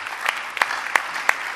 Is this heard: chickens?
no